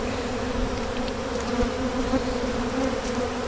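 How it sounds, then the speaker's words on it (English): Many bees hum in a dense, continuous buzz close by as they rob nectar and honey from frames set out near the hive. The sound holds steady throughout, with no talking. "there's quite a few bees in there"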